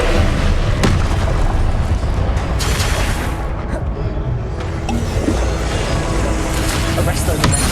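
In Hogwarts Legacy, a Descendo spell slams an enemy down with heavy booming impacts over dense battle noise, while a voice speaks during the fight.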